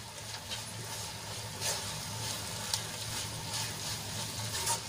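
Spiced masala made with peanuts and sesame being stirred into okra in a pan over a low gas flame: a steady soft sizzle with faint scraping strokes recurring every second or so.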